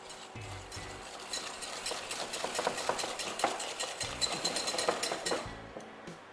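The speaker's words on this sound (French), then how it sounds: "je blanchis l'ensemble à l'aide d'un fouet" Egg yolks, whole eggs and caster sugar are whisked together in a bowl, making a steady, rapid, scraping swish of wire strokes that continues without talk.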